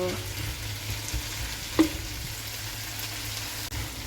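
Bitter melon and tempeh sizzle steadily in a pan while stirred, with occasional scraping clicks from the utensil, close and continuous.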